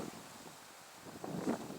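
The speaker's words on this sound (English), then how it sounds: "today's a windy day, it's pretty cool" Wind blows steadily on a windy day outdoors, a soft broadband rush that swells slightly toward the end, faint and with no other sounds.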